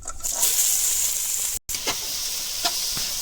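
Onion and garlic fry in hot oil for an aloo chop filling, a loud, close, continuous sizzle with a brief gap and a few stirring scrapes.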